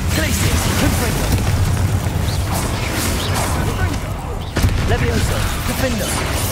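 Confringo, an explosive spell cast in the video game Hogwarts Legacy, set off in loud, repeated blasts and booming crashes amid dense battle noise, with one sharp burst standing out near the end.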